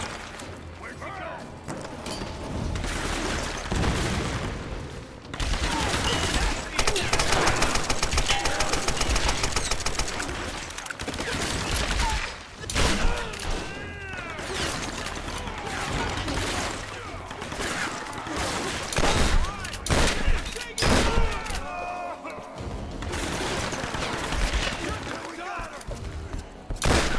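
Gunfire in a Tomb Raider video game shootout, repeated bursts of shots and fusillades over a dense, loud mix of game sound, with characters shouting throughout.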